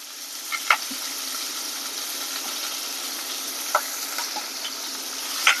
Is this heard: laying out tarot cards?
no